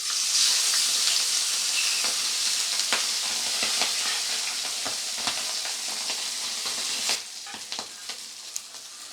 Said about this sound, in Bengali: তেলটা গরম হয়ে গেছে, এবারে আমি মাছগুলো এক এক করে ভেজে নেব